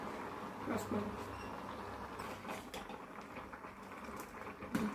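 Rice boils in a pot of milk for village-style payasa, a soft, steady bubbling heard faintly at close range, with a voice speaking in the background.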